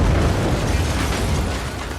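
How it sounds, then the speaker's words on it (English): Huge movie-stunt explosion set off with air cannons and dust inside a boarded-up downtown bank, blowing out all the windows: a loud, sustained roaring blast with dense crackling debris that tapers slightly toward the end, with no voices. "boom, huge explosion, all the windows shattered out"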